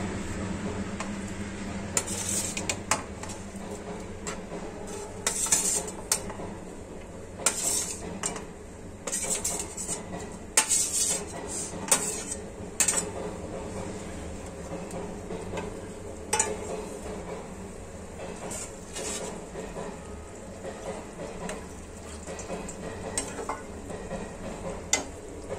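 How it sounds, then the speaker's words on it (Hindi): Fried cauliflower tipped into a pan for a spinach and cauliflower sabzi is stirred repeatedly, with clattering spoon-against-pan knocks and scrapes over a low sizzle, close and steady, with no talk. "और इसमें डालेंगे"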